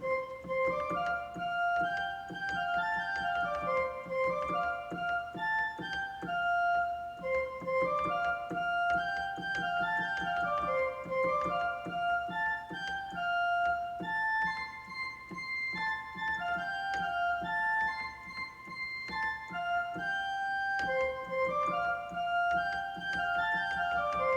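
Handbell choir ringing a hymn tune arrangement, with continuous overlapping bell tones and a steady melody that rings softly and evenly throughout.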